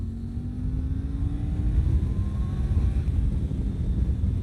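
A motorcycle with an Akrapovič aftermarket exhaust drones steadily with a deep exhaust note, its pitch slowly rising as it accelerates, heard from fairly close.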